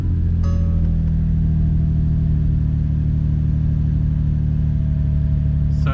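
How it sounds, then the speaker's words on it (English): Idling engine of a Nissan Infiniti G35 with a VQ35DE V6, a steady close low hum with a faint whine, holding even throughout without clear revving. "So just start the car now."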